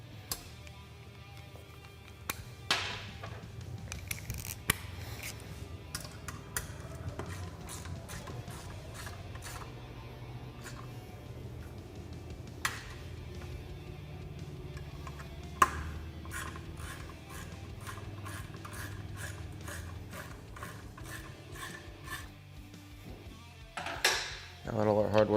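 Hardware on a Polaris RZR seat lowering base being tightened with a ratchet, soft clicking ratchet runs and metallic taps under a low steady background, fairly faint with intermittent louder clicks.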